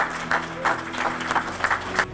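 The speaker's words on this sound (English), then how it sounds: "Give yourselves a round of applause." A high school audience applauds at a school visit in New Jersey, scattered individual claps rising into a lively but thin round of clapping that fades within a couple of seconds.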